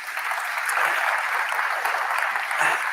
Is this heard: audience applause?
yes